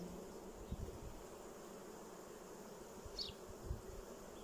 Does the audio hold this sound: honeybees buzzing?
yes